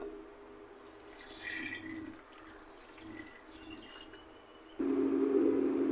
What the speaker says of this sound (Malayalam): അതിൽ 1 ഗ്ലാസ് വെള്ളം ഒഴിക്കണം.